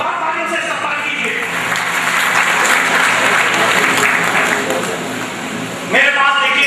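Loud applause from an audience in a hall, a dense sustained wave of clapping that holds for several seconds before a voice over a loudspeaker cuts in near the end.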